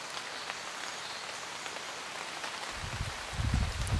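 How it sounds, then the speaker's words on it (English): Steady rain drums on the roof of a camper van in North Wales, a dense, even hiss heard from inside, joined near the end by heavier low thuds of drops. "We've been huddled in the van all morning waiting for a break in this rain"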